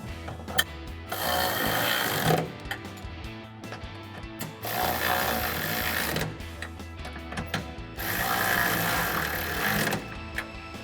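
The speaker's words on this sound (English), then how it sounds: "tighten that down with a 13mm socket" A 13mm socket ratchet tightens bracket bolts onto studs in three long bursts of steady, close, rasping clicks, separated by short pauses.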